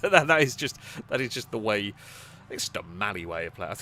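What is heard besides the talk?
None of the usual background noises is heard.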